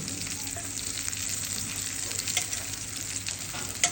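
Slices of sucuk sausage frying in their own rendered fat with no added oil, a steady dense sizzle and crackle close up, with occasional sharper pops and stirring scrapes throughout.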